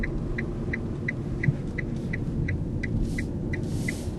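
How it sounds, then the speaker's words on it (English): An electric car's electronic turn signal chirps in an even, steady rhythm, roughly ten bright ticks over a low cabin rumble, with no talking. "It's got an electronic turn signal sound."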